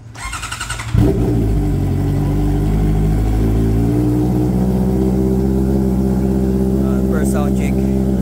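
A motorcycle with no dB killer fitted, fresh with zero odometer and a BMC air filter, fires up on its first start, then settles into a loud, close, throaty rumble with a low steady idle and some revving.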